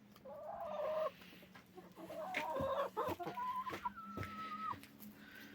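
Backyard laying hens cluck and chatter nearby in a short series of rising and falling calls over a low steady background hum.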